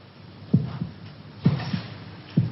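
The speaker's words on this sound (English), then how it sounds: "Can you hear your heart beating?" Heartbeat thumping in a steady slow rhythm, three double-beat pulses about a second apart, low and muffled with faint hum behind and no talk.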